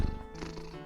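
A cat purrs right against a microphone while sitting on a lap, a close, loud, steady rumbling purr filling the short moment with no talking.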